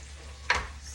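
Tomatoes cooking in a pan for a Filipino fish dish, a faint steady sizzle with one short stir or scrape in the middle, close by and without speech.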